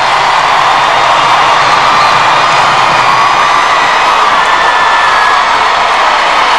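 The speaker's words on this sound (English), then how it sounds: "And the crowd says thank you to Gerald Diduck." A hockey arena crowd at a 1994 Vancouver Canucks fan appreciation day cheers for defenseman Gerald Diduck. The roar of cheering and shouting is loud and sustained, filling the whole moment with no letup.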